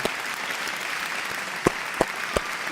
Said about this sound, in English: Thank you for the clapping, everyone.